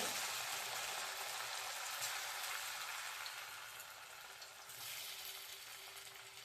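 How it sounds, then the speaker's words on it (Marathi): Coriander mutkule frying in hot oil, giving a dense, steady sizzling hiss close by that eases slightly midway, with no talking over it. "आता कलर ब्राऊन होईपर्यंत आपल्याला याला फ्राय करून घ्यायचा आहे"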